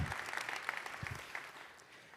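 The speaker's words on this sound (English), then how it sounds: "please join me in a round of applause" Audience applause at the 2022 Forth Roadmap Conference keynote in a convention center, a steady moderate wash of clapping with a few low thumps and some faint voices underneath.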